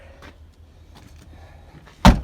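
A pickup truck door fitted with a fender flare swings shut with one solid thud at the end, after a few seconds of faint handling noises.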